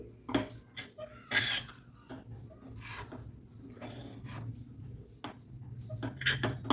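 Cardamom powder being stirred into a wet coconut barfi mixture in a kadhai, with a spoon scraping and clinking against the metal pan in irregular strokes, close and moderately quiet.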